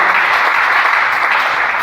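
Church congregation breaking into loud, sustained applause, close and dense, with clapping steady across the whole stretch and no pause.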